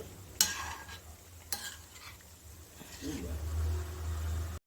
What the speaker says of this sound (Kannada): ಈಗ ಒಂದು ಸ್ಪೂನ್ ಸಹಾಯದಿಂದ ನಿಧಾನವಾಗಿ ಹೀಗೆ ಮಿಕ್ಸ್ ಮಾಡ್ಕೊಳ್ಳಿ